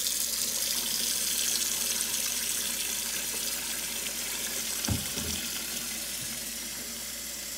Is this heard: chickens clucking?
no